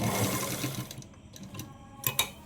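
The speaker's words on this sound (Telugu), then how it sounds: "సేమ్ ఇలా వచ్చినట్టు సేమ్ ఇలాగే ఇంకో కుట్టు ఇలాగే వేయాలి" A sewing machine stitches a Punjabi dress with a fast, close mechanical whirring and needle clatter that slows and then ends in a few sharp clicks.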